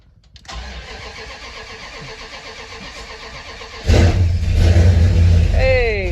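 A car is cold started on a 51-degree day after sitting unused: the starter cranks steadily for several seconds, then the engine catches and roars to a loud idle, with people talking in the background.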